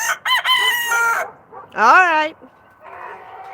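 A human voice imitates a rooster's crow with two loud, harmonic cock-a-doodle-doo calls close by, followed by a softer, fainter call. A brief spoken remark precedes them.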